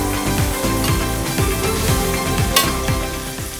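Onions and curry leaves frying for a Telangana-style korameenu fish curry, a steady close sizzle with a spoon repeatedly scraping and stirring the pan in quick rhythmic strokes.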